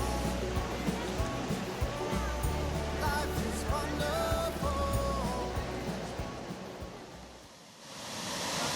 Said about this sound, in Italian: La fontana dei 12 mesi è una grande vasca alimentata da una piccola cascata